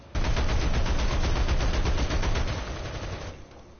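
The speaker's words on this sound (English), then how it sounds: "I'm not going to fire that gun until the other one's out of bullets" Aircraft guns fire a long sustained automatic burst in a flight simulator game, a loud rapid rattling stream of shots that fades slightly toward the end before cutting off, with no talk.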